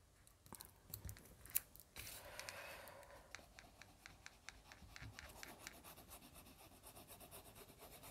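Scissors snipping the corners off decorative scrapbook paper for a pop-up album page, a series of short close crisp cuts with light paper rustling between them.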